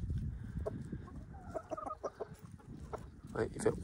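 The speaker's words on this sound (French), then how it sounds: "Ouais, il fait comme ça, et ça il les appelle." A rooster calls to nearby hens on a farm with a series of soft, rapid clucks and chuckling notes, fairly close, amid rustling and other faint farmyard sounds.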